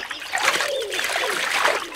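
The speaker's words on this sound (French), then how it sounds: "Ours Brun à l'épaisse fourrure marron cannelle trempe ses pattes dans un ruisseau." Water trickles and splashes close by in a lively, irregular patter as a brown bear's paws wade through a shallow stream.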